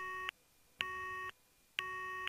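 Phone busy signal after a hang-up in the game Steins;Gate: three clear, loud electronic tones with even gaps, each about half a second, with no voices.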